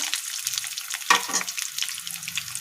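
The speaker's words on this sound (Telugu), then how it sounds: "తర్వాత పచ్చిమిర్చి పసుపు కరివేపాకు వేసుకొని ఫ్రై చేసుకోవాలి" Green chillies, turmeric and curry leaves frying in oil for ajwain-leaf rice, giving a close, bright crackling sizzle with a louder burst of spattering midway, alone without talk.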